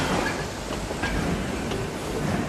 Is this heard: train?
yes